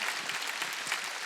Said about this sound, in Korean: 박수 좀 쳐줘요.